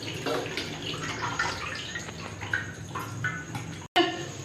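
Bitter gourds are washed by hand in water in a tray, giving splashing and sloshing sounds with small drips, while someone talks over them throughout.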